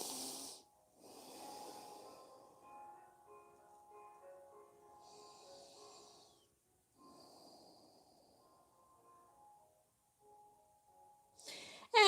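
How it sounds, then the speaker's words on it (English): Slow, soft breaths drawn in and let out through the nose during a yoga session, several quiet airy inhale-exhale cycles with pauses between them, close and alone. "Inhale and exhale through your nose."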